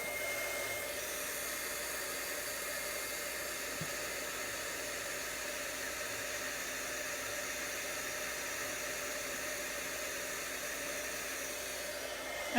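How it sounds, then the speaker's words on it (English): A heat tool warming an embossed card-stamping project gives a steady, continuous blowing hiss with a fan-like hum, loud and unbroken throughout, with no talking. "I'm just going to heat that a little more"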